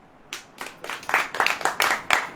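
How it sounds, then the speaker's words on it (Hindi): Clapping from the audience at a sermon builds from a few claps into a quick, rhythmic round of hand claps that grows louder and fuller toward the end, with no talking over it. "ताली बजाइए।"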